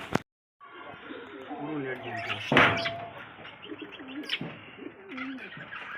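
Pigeons in a loft of fancy pigeons kept for sale, giving repeated nearby rolling coos and a few chirps, with people talking over them.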